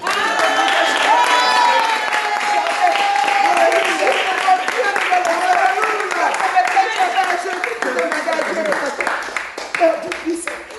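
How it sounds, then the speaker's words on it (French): A church congregation applauding during a healing testimony service, lively clapping and cheering that runs steadily with music and voices mixed in, tapering slightly toward the end. "Applaudissons pour le Seigneur."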